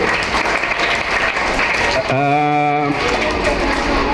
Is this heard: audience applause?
yes